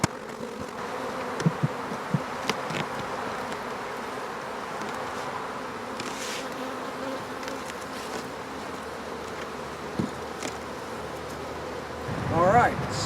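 Honeybees hum in a dense, steady drone around hives at the start of spring during a hive inspection, close and constant outdoors, with a few louder passes near the microphone.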